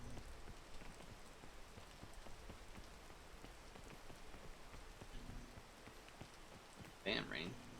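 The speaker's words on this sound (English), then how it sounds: "Damn, rain." Steady rain patters on surfaces throughout a stretch of the video game PEAK, a dense, even hiss of drops at moderate volume with a brief voice near the end.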